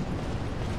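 A priest enemy in Dark Souls 3 hurls a fire attack, a brief, dense burst of roaring, crackling flame lasting under a second at steady loudness.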